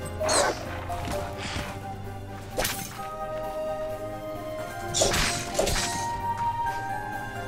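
Barks from a dog in a horror-themed indie video game come in short bursts mixed with whooshing swishes and crashes, while a person talks quietly now and then.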